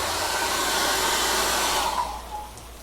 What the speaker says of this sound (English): I got my hairdryer switch on.